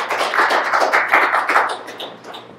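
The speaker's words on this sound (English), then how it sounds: "let's give him a round of applause" Audience applause at an evening farm talk on soil regeneration, a dense patter of many hands clapping at once, steady and fairly loud before tapering off toward the end.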